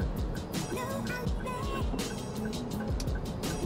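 Toyota Avanza Veloz engine idles and pulls through a tight U-turn at low speed, a steady low hum with tire and road noise heard from inside the cabin.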